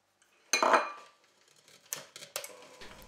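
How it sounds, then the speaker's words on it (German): Spoon or whisk scraping and clinking against a mixing bowl while sugar is stirred into batter, a louder burst of clatter followed by several lighter, scattered taps and scrapes, close and with no voices. "Danach folgt der Zucker und wir rühren weiter kräftig durch."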